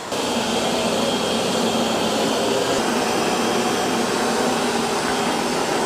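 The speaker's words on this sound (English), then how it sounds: "All right, it's gonna start mopping the muddy paw prints." A robot vacuum mops muddy paw prints off a rug, giving off a loud, steady whooshing whir of motor and airflow that holds constant throughout.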